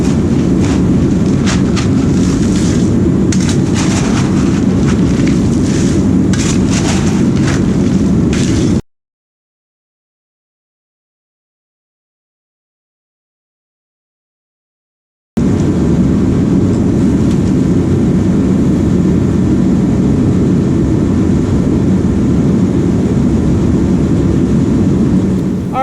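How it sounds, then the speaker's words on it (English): A pump runs in a basement being prepared for a concrete floor pour, giving a loud, steady, close roar that cuts out to silence for several seconds and then resumes unchanged. "I've had this pump running like 15 minutes now"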